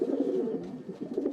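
Pigeons coo softly in a low, throaty, rolling burble, several overlapping murmurs close by with no speech.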